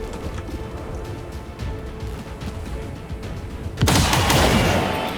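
A flanking shot fired in the video game XCOM 2, a sudden loud burst of gunfire near the end that rings out over low background game ambience.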